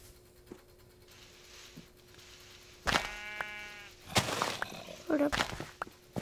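Minecraft sheep bleat in a short run of harmonic calls near the middle, followed by louder clattering game noises, over a quiet low hum.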